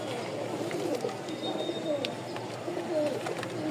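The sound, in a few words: red Muksi pigeons cooing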